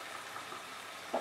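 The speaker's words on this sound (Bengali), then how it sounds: "এবার মশলাটাকে ভালো করে কষাতে হবে" Spices and tomato puree frying in a pan for dhaba-style chicken bharta give a steady, close hiss of sizzling, ending in a brief louder clatter of stirring.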